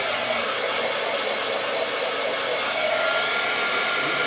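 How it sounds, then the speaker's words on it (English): Heat embossing tool blowing to melt embossing powder on a Christmas card, a constant loud whooshing fan hiss that holds steady throughout, up close with no talking. "I'm going to grab my heat tool"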